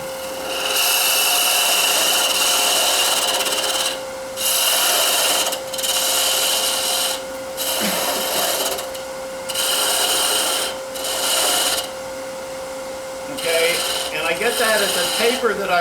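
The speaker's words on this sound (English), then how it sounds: "I'm going to do a peeling cut now" A knife shaves peeling cuts into wood while carving a small ornament, producing a series of close, dry rasping strokes in bursts of a second or two, separated by brief pauses.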